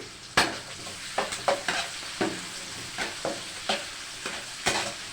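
Crushed garlic fries with a steady sizzle in a pan for potato gravy, while a spoon stirs it with a run of sharp scraping clacks spaced irregularly at close range; no one speaks.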